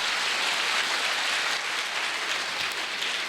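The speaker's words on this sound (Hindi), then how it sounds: "तो एक बार अपने लिए जोरदार ताली बजा सकते हैं" An audience applauds at a company's first anniversary event, a steady, dense wash of clapping that holds at an even level throughout, with no voices over it.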